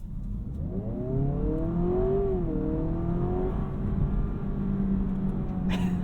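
A 2026 Honda Prelude hybrid pulling away in sport mode, its engine drone rising in pitch, dipping briefly, then holding a steady moderate hum from inside the cabin, with a short knock near the end.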